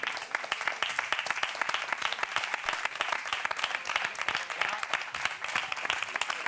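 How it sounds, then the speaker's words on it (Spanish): A studio audience on an evening TV show applauds the salsa dance group Fuego en los pies, a dense, steady wash of many hands clapping that carries on evenly for several seconds with no talking over it. "¡Un aplauso para ellos!"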